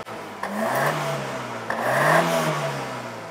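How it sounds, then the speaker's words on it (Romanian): Opel Calibra engine from around 2000 revved twice in quick succession, each rise climbing to a strong mid-pitched roar before settling back to a steady idle, close by with no talk. "Hai să-i dăm și o cheie să vedem cum se aude calibra asta"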